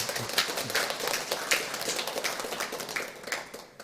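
A church congregation gives a round of applause in blessing during a Sunday worship service, dense steady clapping from many hands that carries on for several seconds before thinning out at the end.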